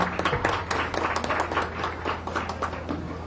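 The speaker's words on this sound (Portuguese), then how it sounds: "Uma salva de palmas à nossa convidada." An audience at a Brazilian congressional committee hearing applauds an invited guest, a dense, steady patter of clapping that fills the short stretch at moderate volume.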